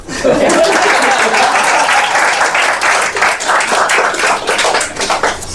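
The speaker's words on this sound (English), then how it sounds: "so everybody can clap" A workshop audience claps together, sustained loud applause with a few scattered laughs and voices mixed in, rising quickly and holding steady before easing off.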